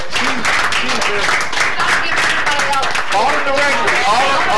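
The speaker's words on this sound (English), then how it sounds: "Oh, standing ovation." A standing ovation at a Palatka city commission workshop, with dense, continuous clapping from a roomful of people and voices talking over it.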